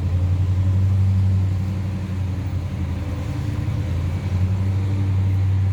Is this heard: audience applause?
no